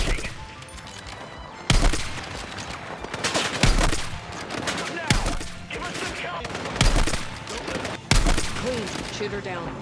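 Gunfire from the Battlefield 6 video game, with sharp, loud shots and volleys at irregular intervals over a busy battle din, while a voice talks throughout.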